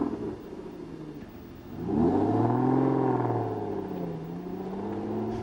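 A V12 Aston Martin engine fires up with a throaty exhaust bark, swelling into a loud rising rumble that settles into a steady idle, close and with no voices.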